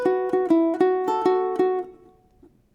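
Solo ukulele plucking one bar of a song's motif: about eight crisp, evenly spaced picked notes, close and clear, ringing briefly before a faint string noise at the end.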